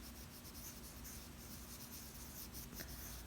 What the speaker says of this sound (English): We have learned how to shade with colored pencil.